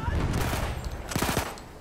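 A short burst of rapid gunfire in the video game Battlefield 1, several quick cracking shots over constant battlefield noise, loud and near.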